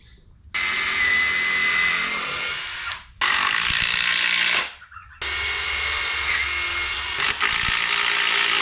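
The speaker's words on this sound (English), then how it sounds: "I'm just going to pre-drill the corners here." A power drill pre-drills the corners of a wooden A-frame animal shelter in three whining bursts of a few seconds each, separated by short pauses, loud and close.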